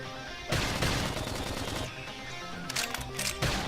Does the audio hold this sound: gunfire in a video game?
yes